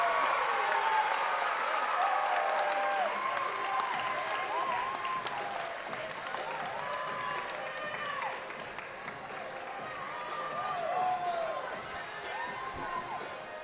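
Spectators at a Maryland at Ohio State gymnastics meet applaud and cheer in a large arena, with loud, sustained clapping and shouting that swells and fades, and voices are heard mixed in.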